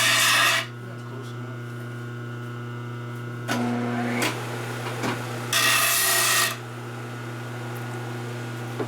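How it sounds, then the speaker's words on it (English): A small deburring file rasps a wood edge in a shop, heard as a few short scraping bursts over a steady machine hum, with quiet stretches between strokes. "Got my little deburring file over here."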